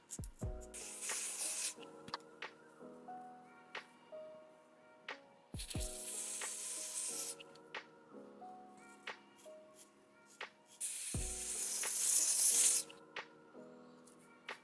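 Short bursts of spray adhesive hiss out three times during a curly bob wig install, each loud blast followed by quieter rubbing and handling noises on the lace and hair.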